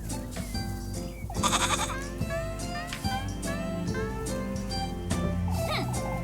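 A goat bleats repeatedly, fairly close, with wavering cries rising and falling over a layer of other sounds and possible voices.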